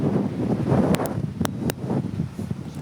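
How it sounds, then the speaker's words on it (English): Wind buffets a microphone outdoors in Centerville after a storm that brought down trees, a loud low rumbling gust with a few faint higher tones in the background. "Looks windy."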